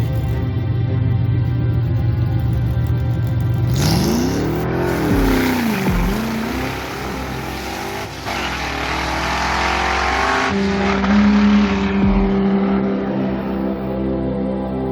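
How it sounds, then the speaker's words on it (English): A Camaro holds a burnout, its engine roaring loud and close at steady high revs, pitch sweeping up and down as the throttle is worked, with harsh tire noise layered over the sustained engine drone. "I'm going to try and hold them straight through a burnout"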